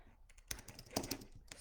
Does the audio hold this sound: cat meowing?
no